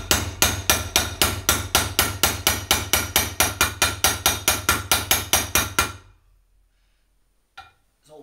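A wheel bearing is hammered into the front hub of a Honda CB500, struck in a fast, even run of about two dozen sharp metallic blows. The blows are close and loud, then stop abruptly into near silence with a faint clink.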